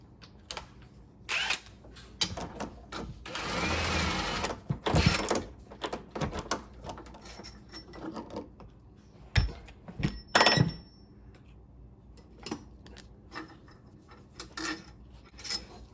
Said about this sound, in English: I'm going to take those two outside bolts loose